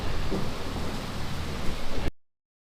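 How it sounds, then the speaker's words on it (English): Steady rain from a storm in Nicaragua, heard close and continuous, with a low rumbling swell near the end that fits distant thunder before the sound cuts off. "Hopefully you got the thunder there."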